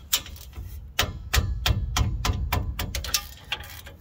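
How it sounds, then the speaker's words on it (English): Ratchet clicking in short bursts while loosening bolts on a Nissan Frontier C200 differential, the sharp metallic ticks spaced irregularly and close up with no talk. "I think my ratchet will fit in there just enough."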